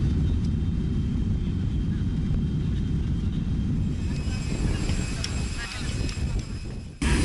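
A passenger airplane touches down on Socotra, its engines roaring loud and close throughout. Faint clattering comes through under the roar, and a sharp jolt sounds near the end.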